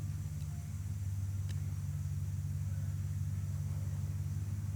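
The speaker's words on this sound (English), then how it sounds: "No, it's just a truck." A truck drives past a campsite with a low, steady engine rumble and road hum that stays constant throughout, moderately distant and with no voices.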